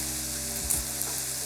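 Vegetables sizzle in a hot stir fry pan with a steady, bright frying hiss and a couple of soft clacks from stirring partway through.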